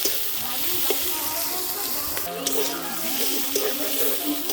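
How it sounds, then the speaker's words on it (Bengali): Onions sautéing with ginger, garlic and green chili paste, a dense steady sizzle with occasional stirring scrapes and clinks, close, faint voice traces beneath. "কাঁচা লঙ্কা আদা রসুন দিয়ে একটু আবারও কষাবো ভালো করে"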